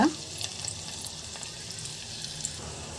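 Tempering for pongal fries in oil: crushed pepper, cashews, ginger, curry leaves and asafoetida sizzle steadily in a pan, close and fairly quiet, with faint stirring.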